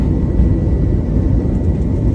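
American Airlines jet departing a Las Vegas runway, a loud, steady low roar and whir of engines heard from close by, with no talk.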